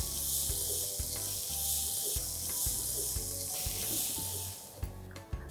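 Masala with Kashmiri red chilli powder and turmeric cooks in a pan for misal pav, giving a steady soft sizzle under repeated rhythmic scraping and stirring knocks, with a few sharper clinks near the end.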